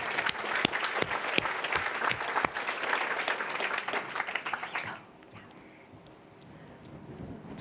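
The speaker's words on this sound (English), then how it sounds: "applause." A plenary audience at a challenge finals applauds with full, steady clapping for about five seconds, then it cuts off to a quiet room with faint murmuring.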